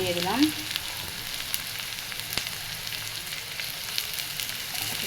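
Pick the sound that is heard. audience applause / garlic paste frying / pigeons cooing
garlic paste frying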